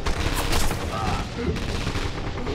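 Machine gun fire in Battle of the Volga crackles continuously and loudly for a few seconds, dense rapid shots layered over a battlefield din, with a voice partly audible underneath.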